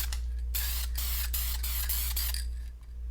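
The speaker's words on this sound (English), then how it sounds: "you're just going to spray a good thin coat all over your decals here" A spray can lays a thin coat over waterslide decals in repeated bursts of hissing spray broken by short pauses. It is close and loud over a steady low hum.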